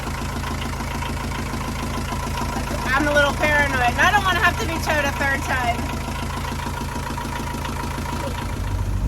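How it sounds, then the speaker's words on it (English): An engine idles steadily after a breakdown, left running to check for a new leak; a low, constant hum persists throughout while a person talks over it in the middle. "I'm going to let the engine run for like 15 minutes to see if we spring another leak"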